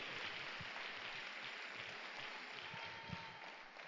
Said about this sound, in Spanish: Un aplauso grande de alabanza al Señor